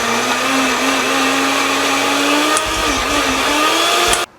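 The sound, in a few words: blender grinding potatoes with water for potato porridge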